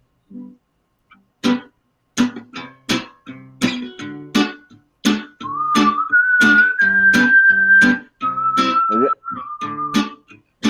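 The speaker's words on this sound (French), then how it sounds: "vais siffler parce que si je vous chante les paroles, vous allez trouver tout de suite" Someone whistles the melody of a song up close, starting with short choppy notes and then holding longer sustained notes, clear and prominent.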